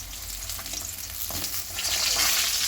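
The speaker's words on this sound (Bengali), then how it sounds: "আর তার সঙ্গে ভাজা হচ্ছে মাছ" Fish frying in a pan in a home kitchen, a steady broadband sizzle that grows slightly louder toward the end, heard alone without talk.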